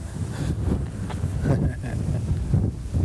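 Strong wind buffets a microphone outdoors on a mule deer hunt, a constant loud low rumble with gusty surges and no clear talk.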